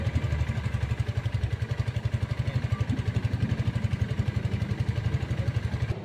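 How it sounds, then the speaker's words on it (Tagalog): A Benelli Motobi Evo 200 bobber motorcycle idling, its exhaust giving a steady, even low-pitched thumping pulse, close and continuous throughout. "Pakinggan naman natin yung tunog niya dun sa kanyang tambucho."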